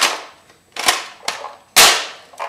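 A modified Nerf Longshot dart blaster fires several sharp, loud pops in quick irregular succession. Each crack is close and punchy and decays quickly, with no talking.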